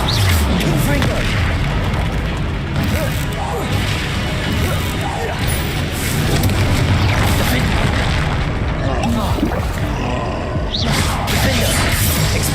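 Confringo blast spells detonate in the Hogwarts Legacy video game, loud booming explosions piling up over constant combat noise while a voice shouts spell names throughout.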